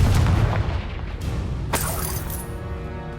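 Confringo blasting spell in Hogwarts Legacy going off as a loud close boom with crackling debris, followed by a sharp secondary crack and a fading rumbling tail.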